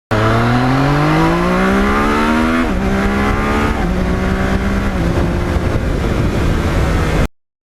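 A Yamaha MT-09 motorcycle rides close and loud, engine pitch climbing steadily then dropping with each quick upshift, going through several gears in one continuous run with no talk.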